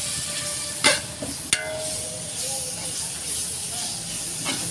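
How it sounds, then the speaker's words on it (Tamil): Biryani masala with garlic and ginger sizzling in a pot for mutton biryani, a continuous hiss of frying punctuated by two sharp clanks of stirring near the start, with faint background tones. "நம்ம நல்லா கிளறி விட்டுக்கிட்டே இருக்கணும்"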